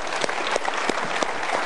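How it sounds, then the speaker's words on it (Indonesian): An audience at a seminar applauds together, a steady, dense patter of clapping hands that carries evenly throughout, loud and close without any voices over it. "kita berikan tepuk tangan, boleh?"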